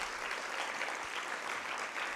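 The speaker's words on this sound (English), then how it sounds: "A round of applause, please, for our winners." Steady, dense audience applause for the winning Jamhuri High School team at a Nairobi regional high school debate knockout, continuous and evenly loud throughout without any voices.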